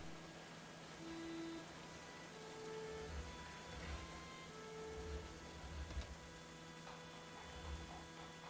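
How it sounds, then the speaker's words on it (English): Soft, steady rain patters under a low hum, with a few faint tones drifting through, in the video game Going Medieval; quiet and continuous, no voices. "That's a lot of raining that we're having in this spring."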